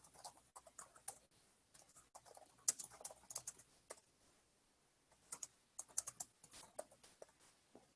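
Typing on a computer keyboard, an irregular run of light key clicks and taps, close and fairly quiet, with brief pauses between bursts and no speech.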